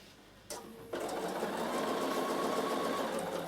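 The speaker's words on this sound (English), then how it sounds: "I'll sew this one up to here" A Bernina sewing machine stitches a peak cap, starting with a short whir and then settling into a steady, fast, close mechanical hum of needle strokes that runs continuously to the end.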